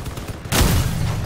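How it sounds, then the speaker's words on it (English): A single heavy 88mm cannon shot booms out in the vehicle shooter game Crossout, a sudden loud blast that rolls on in a rumbling tail. "that was our last cannon shot"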